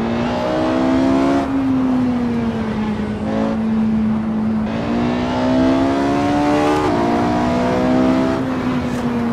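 Porsche 918 engine in the Assetto Corsa racing game, a loud, close, continuous drone that rises with revs and drops at several gear shifts while driving through canyon roads.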